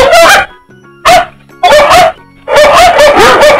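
Loud, close dog barks come in several bursts, some of them quick doubles, with short pauses between them.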